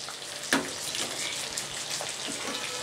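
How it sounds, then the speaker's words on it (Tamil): A steady bubbling, sizzling simmer of fish curry in a pot on the stove, with a brief clink near the start and no voices. "கலந்து விட்டு இன்னும் கொஞ்சம் நேரம் கொதிக்கட்டும்"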